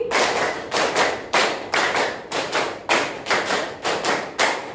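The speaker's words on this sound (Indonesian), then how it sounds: "Tepuk berpola 5 3 kali." A classroom group claps a patterned rhythm in repeated bursts, about a dozen sharp group claps in clustered phrases, loud and close, with no talking.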